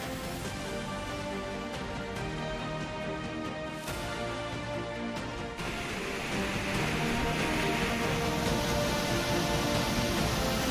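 Heavy rain pouring over the Western Ghats hills in the Nilgiris, a dense, steady roar of drops on surfaces that swells louder partway through, with no voices.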